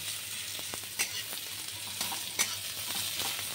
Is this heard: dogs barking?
no